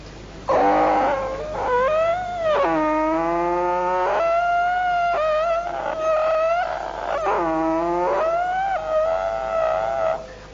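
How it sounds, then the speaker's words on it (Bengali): Unoiled wooden wheels of a moving bullock cart squeaking, loud, close, drawn-out wailing squeals that rise and fall in long pitched glides, repeating with short breaks in between, no talking. "গরু গাড়িতে উঠার পর একটা সুন্দর শব্দ আসছিল সেই গরু গাড়ির চাকার থেকে"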